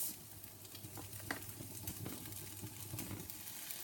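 Lean mince browning in a pan with onion and garlic, a steady close sizzle with occasional scraping stirs running continuously, no voices.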